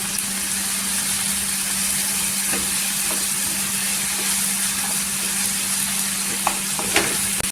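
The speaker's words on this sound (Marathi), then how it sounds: "इथे टोमॅटो सॉफ्ट झालेला आहे, अद्रक लसूणची पेस्ट टाकलेली आहे 1 चमचा." Soft tomato cooking with a spoonful of ginger-garlic paste in a pan for a taro (arbi) curry, giving a loud, steady, unbroken sizzle with a low hum underneath and no voices.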